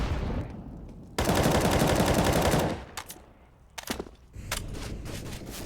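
Rapid automatic gunfire wall bangs in Counter-Strike on the Overpass map during an ESL Pro League match, a long dense burst followed by scattered shorter volleys and single shots, fairly close and loud.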